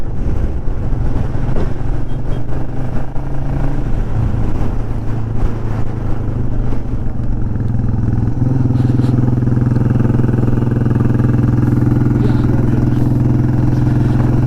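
A motorcycle rides the hairpin bends of a hill road to Munnar, its engine a steady, close drone that deepens and grows louder partway through, with no talk.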